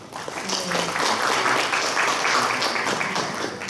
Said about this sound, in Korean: 그럼 김일봉 좌장 선생님을 큰 박수로 모시겠습니다